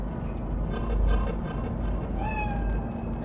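A cat meows once in Cyberpunk 2077, a short rising call heard over a steady low game ambience of city hum and drones, with no talk.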